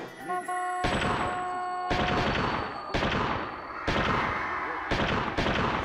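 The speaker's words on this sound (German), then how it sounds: "Kurz darauf fallen Schüsse." Gunshots from an armed man standing beside a car in a home driveway, about six loud booming reports spaced roughly a second apart, each with a long ringing tail.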